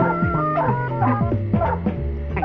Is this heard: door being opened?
no